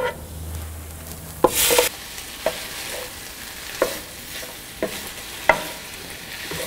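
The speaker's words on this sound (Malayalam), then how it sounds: "ഇതിലോട്ട് നമ്മൾ വേവിച്ച് വെച്ചിരിക്കുന്ന ചെമ്മീനിട്ട് ഉലർത്തിയെടുക്കുക." Cooked prawns stir-fried in roasted masala powder, a low background sizzle broken by a sharp metal clank and about five distinct spatula scrapes against the pan at irregular intervals.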